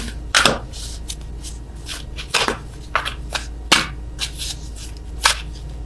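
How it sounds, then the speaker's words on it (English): Crisp, irregular riffles and taps of tarot cards, a handful of sharp bursts spread across a few seconds, close by with no talking. "I am awful at attempting to shuffle these."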